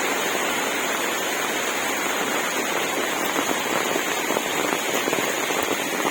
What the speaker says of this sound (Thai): ฝนน่าจะตกทั้งวันมืดเลย